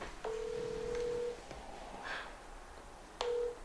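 A telephone on speakerphone plays dialing tones: a long steady tone, a brief higher blip, then another tone starting as a new one begins, clear and alone with faint background hiss.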